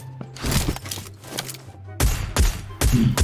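Gunfire in PUBG: a quick burst of shots is followed by a pause, then several more sharp, loud bursts come in close succession, with thuds mixed in.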